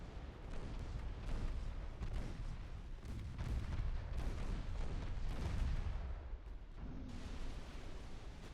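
A warship's ammunition detonating in the naval game Ultimate Admiral Dreadnoughts, a continuous rumbling roar of heavy blasts and booms that swells and rolls on, fairly quiet overall, with no talk.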